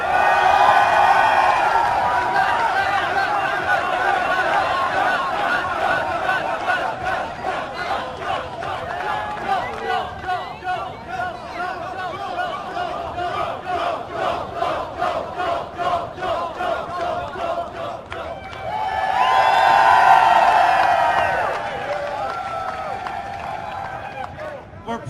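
A live Halo 4 match crowd cheers and yells for the Rooster Teeth team, loud at the start, settling into rhythmic shouting and chanting, then swelling into another burst of cheering before fading.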